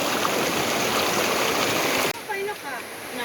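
A river stream flows steadily beside a hiking trail on Rumun Kondiu Hill near Kampung Mangin 2, Kota Marudu, a loud continuous rush of water that drops slightly in level partway through.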